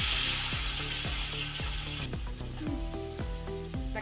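Seven or eight chopped tomatoes and two slit green chillies sauté in a pan for Hyderabad chicken biryani. A loud, close sizzle dominates at first, then eases into softer frying with repeated low rhythmic thumps underneath.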